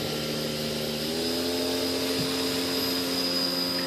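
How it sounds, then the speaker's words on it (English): An electric motor and propeller on an RC composite sailplane run on a bench test, holding a loud, steady high-pitched whine with a strong tonal hum close by. "You guys can see where that prop is. Nice and powerful."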